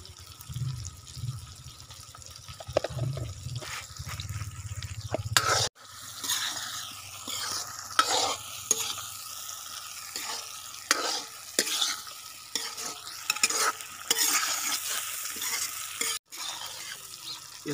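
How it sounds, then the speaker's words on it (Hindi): Chicken liver frying with ground coriander in a pan, steady sizzling under repeated scraping and stirring strokes of a spoon, close and moderately loud, with occasional clinks and no speech. "इसको हम 3 से 4 मिनट भूनेंगे"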